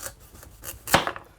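A slightly larger kitchen knife slices the bottom off a butternut squash on a chopping board, giving one sharp, close cutting crunch amid a few softer scrapes and taps.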